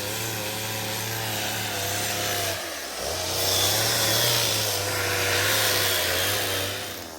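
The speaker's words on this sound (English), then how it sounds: "Owen is just sanding some of the rough branches that are on the log." Power sander grinding rough branch stubs off a log for an Alaskan hybrid log home, a continuous loud motor hum with abrasive rasping that dips briefly and then rises again as the tool bears down on the wood.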